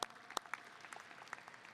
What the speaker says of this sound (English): I'll give her a round of applause